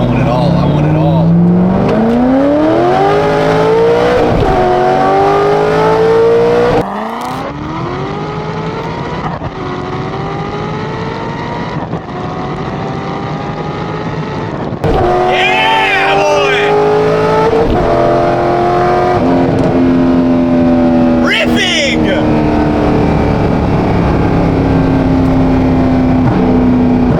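A Corvette Z06 accelerates hard through the gears, the engine climbing in pitch, dropping at each upshift, then climbing again. The wail is loud and close, with people speaking over it at times.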